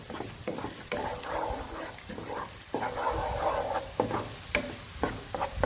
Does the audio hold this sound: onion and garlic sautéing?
yes